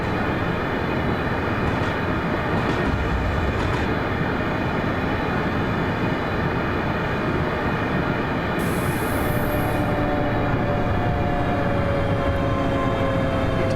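Train running through a junction in a Glasgow to Dunblane route of a train simulator game, with a steady loud rumble of wheels and carriage noise throughout, a brief high whine partway through and faint squeal tones later.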